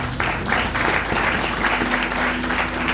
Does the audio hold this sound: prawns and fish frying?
no